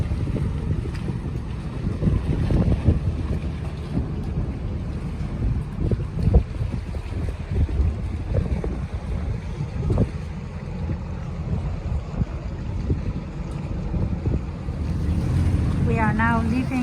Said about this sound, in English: this boat comes to Bellevue and then goes back, so it's roughly 15 minutes boat ride